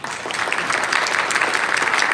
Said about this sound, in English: you can do a little applause if you want to.